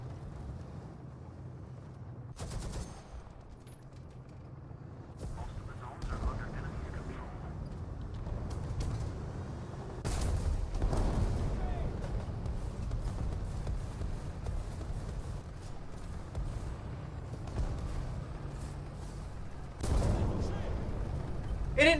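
Gunfire in War Thunder, heavy booming shots at intervals over a steady rumbling engine drone, loud and close, with several sharp blasts standing out.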